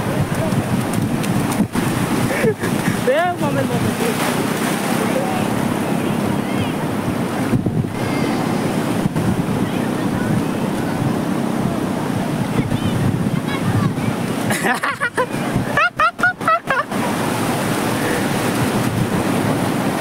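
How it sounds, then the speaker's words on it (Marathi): Sea waves break and wash ashore on Kashid beach near Murud, a loud continuous roar of surf mixed with heavy wind buffeting the microphone, with a few brief thumps and dropouts. "समुद्राच्या लाटा पण येते आणि पण येते"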